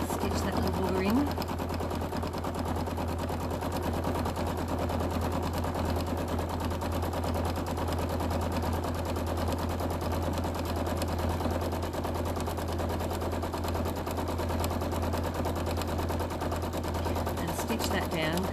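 A sewing machine stitches a quilt with a fast, steady mechanical whir that runs continuously at close range, with brief clicks near the start and end.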